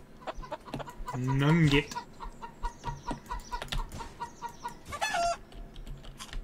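Chickens in Bear Simulator cluck repeatedly in a rapid, uneven rhythm, with a louder squawking run and a sharp high cry standing out. A voice talks briefly over them.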